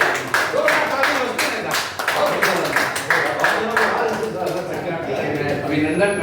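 An audience at a Hindi poetry gathering in Modinagar claps warmly as a crowd, a steady patter of many hands lasting several seconds under voices talking nearby.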